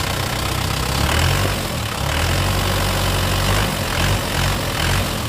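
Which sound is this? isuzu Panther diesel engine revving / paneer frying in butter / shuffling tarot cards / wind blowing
isuzu Panther diesel engine revving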